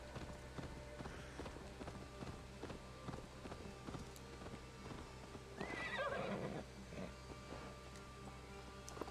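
Horse neighing and hoof clip-clops from a medieval video game, with steady hoofbeats throughout and a loud, close whinny around the middle over a constant low hum of game ambience.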